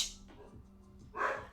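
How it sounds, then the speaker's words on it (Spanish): A dog barks indoors at home, a short, fairly faint burst at the start and a louder one near the end, with low room noise between. "a ver si se calla el perro, no se calla el perro."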